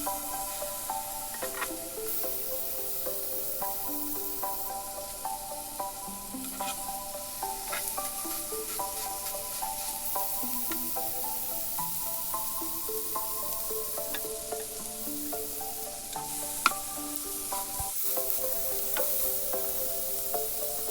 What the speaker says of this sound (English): Brush some oils on the griddle to cook the kebab and the asparagus and the zucchini.